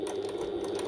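A domestic sewing machine stitches a bucket tote bag, running forwards and then briefly in reverse, with a steady close motor whir throughout and no pause.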